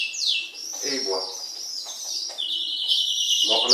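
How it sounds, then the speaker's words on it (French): A canary whistles loud, high sustained notes close by, amid many other birds nearby, with brief lower chirps and rustling between phrases. "on entend le canari qui siffle"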